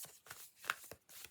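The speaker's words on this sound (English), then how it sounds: "So I'm just giving those a shuffle" A deck of oracle cards being shuffled by hand, with several soft papery riffling bursts in quick succession, close and fairly quiet.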